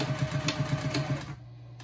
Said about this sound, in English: here I'm back stitching